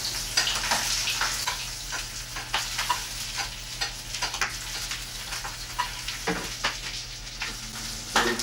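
A guinea fowl supreme grilling skin side down in a pan, a steady crackling sizzle with frequent small pops and spatters, close and continuous with no voices.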